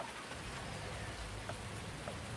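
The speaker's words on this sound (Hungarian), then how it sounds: "Zúg az eső, gyerekek, zúg az eső." Rain pours in the farming video game Farming Simulator 19, a steady, even hiss of downpour that fills the whole stretch without breaks or voices.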